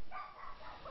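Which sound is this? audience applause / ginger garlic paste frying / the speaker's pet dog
the speaker's pet dog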